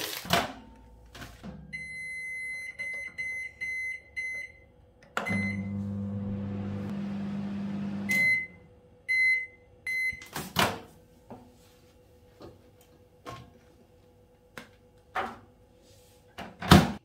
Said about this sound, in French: On va les mettre au micro-ondes puisque c'est la seule chose qui nous reste.